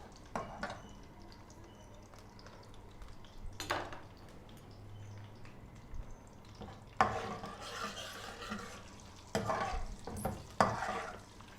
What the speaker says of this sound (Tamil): கடுகு வெந்தயம் நல்லா பொரியறப்போ ஒரு வாசனை நல்லா வரும்.